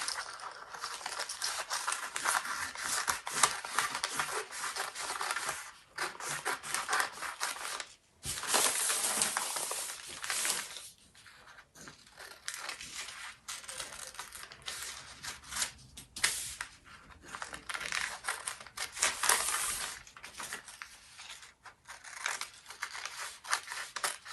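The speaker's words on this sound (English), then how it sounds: "I can now use my paper or my craft scissors to just cut out around my new pattern piece." Craft scissors snip around a paper pattern piece for a velvet T-shirt, giving close, quiet crisp cuts and paper rustling in irregular runs with short pauses between strokes.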